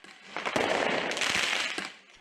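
Fireworks burst during riots in Nanterre outside Paris, France, in a dense rapid crackling barrage lasting about two seconds, loud and close, with no talk.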